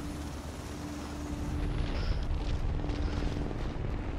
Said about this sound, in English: Jeez, that's a huge explosion.